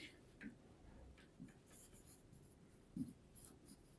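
Pen writing on paper during a math lesson: faint, scattered scratching strokes and taps at close range, quiet overall, with occasional speech nearby.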